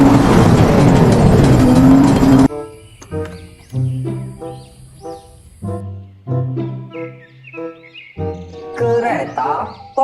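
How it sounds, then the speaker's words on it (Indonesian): A toy race car gives off a loud, buzzing engine roar for about two seconds that cuts off abruptly. Quieter toy tones and a voice follow. "Mobil balap."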